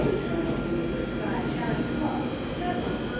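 A London Underground train rumbles steadily at a platform near Charing Cross, with a continuous low roar and station hum throughout, and a voice talks over it.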